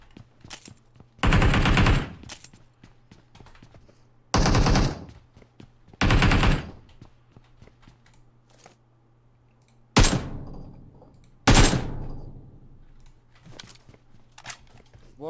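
Video game gunfire in five loud bursts of rapid automatic shots, each about a second long, separated by quieter gaps with faint background game sounds.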